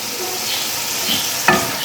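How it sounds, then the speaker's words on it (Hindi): Butt karahi sizzles and fries steadily in a pan, with a brief stir or scrape near the end and no talking. "अब हम अच्छी तरह इसको भूनेंगे।"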